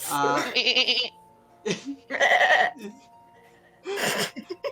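Sheep bleating in short, quavering calls, several separate bursts with gaps between, fairly close, under and around a voice that imitates the bleats.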